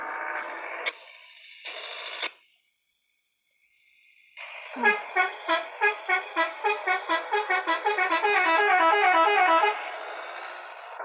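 A Tofaş car horn sounds two short blasts, then after a pause gives a long run of rapid, rhythmic honks that speed up before stopping, loud and close with no talking.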